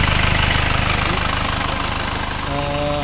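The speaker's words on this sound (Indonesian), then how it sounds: "jadi ini sudah mesin normal." A rebuilt Isuzu Panther 4JA1 turbo diesel engine idles close by, with a steady, loud, rhythmic clatter and a low hum that does not change.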